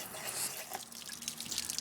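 Liquid poured down the bathroom sink drain of an RV during winterizing gives a brief close trickling, dripping splash, soft and steady for under two seconds with no talk.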